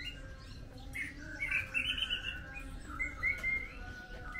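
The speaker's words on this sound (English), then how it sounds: "More birds here. Look at the cages." Small caged birds at an Indonesian animal market chirp and tweet in bright, rapid bursts over a steady low rumble of background noise, moderately close.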